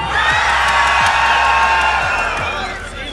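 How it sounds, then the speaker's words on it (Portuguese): A convention crowd at a gaming talk stage yells and cheers loudly together, a sustained wall of whoops and high shouts from many voices with a few claps, fading slightly at the end. "Quem tá feliz, dá um grito bem alto."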